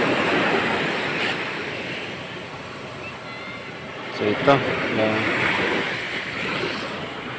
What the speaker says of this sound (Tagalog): So yun, dagat.